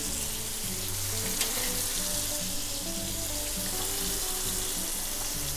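Meat searing in a hot pan gives off a dense, continuous sizzle and crackle. The sound is close and steady, with no talking over it.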